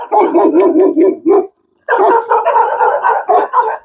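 Several dogs bark loudly and close at hand in quick repeated bursts along a walking route through Korean countryside, a brief pause splitting two volleys of overlapping barks, with no one speaking.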